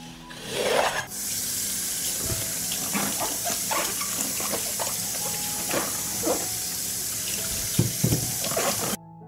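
Fresh peppers being washed under a running kitchen tap, a steady stream of water splashing into the sink with intermittent rubbing and handling noises throughout, close and fairly loud, no talking.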